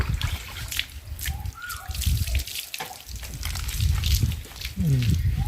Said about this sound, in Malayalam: മേത്ത് തേച്ച ഷാമ്പു മുഴുവൻ കഴുകി കളയണം കേട്ടോ